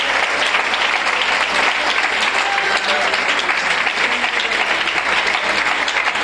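A congregation at a church service claps steadily in dense, continuous applause that holds at full loudness for the whole stretch, with faint voices mixed in.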